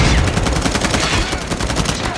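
An automated sentry gun firing in a Call of Duty video game, a rapid continuous stream of loud, close gunshots in a fast, even rhythm.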